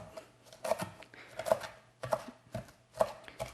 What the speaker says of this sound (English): And we're just slicing it nice and finely. Okay, and I'll cut it the other way too.